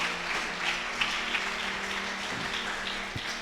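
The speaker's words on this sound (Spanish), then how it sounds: "¿Cuánto le dan un aplauso al Señor?" A church congregation applauding during a sermon: dense, even clapping from many hands, held steady at moderate volume for a few seconds with no voices over it.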